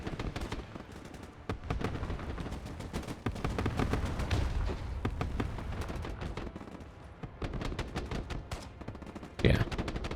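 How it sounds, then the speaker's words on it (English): Grenade launchers firing in the real-time strategy game Broken Arrow, a rapid series of sharp reports mixed with machine-gun bursts at moderate distance, with a deeper roll of explosions in the middle and a sudden loud blast near the end. "the grenade launchers are doing all the hard work here"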